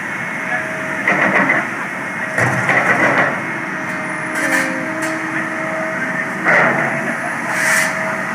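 Heavy equipment working beside a road gives a steady, loud mechanical rumble, with periodic louder bursts of clanking and grinding rising over the constant drone.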